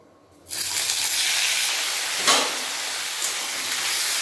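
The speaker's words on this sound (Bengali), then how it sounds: "তেল গরম হয়ে গেছে, এরপর সিমগুলো দিয়ে দেব" Flat beans hit hot mustard oil in a kadai with a sudden loud sizzle that settles into a steady, close, hissing fry, with a brief extra crackle midway.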